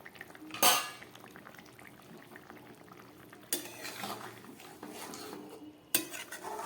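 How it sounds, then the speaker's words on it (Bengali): A lid lifted off a pot of fish curry with potato, cauliflower, drumstick and pointed gourd simmering on low gas, giving sharp metallic clanks near the start, middle and end over a steady bubbling, hissing simmer. "6-7 মিনিট পরে ফেরত আসলাম, ঢাকাটা খুলছি"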